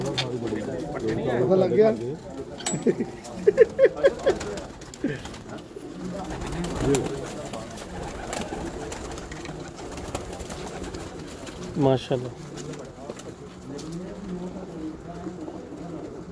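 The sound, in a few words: pigeons cooing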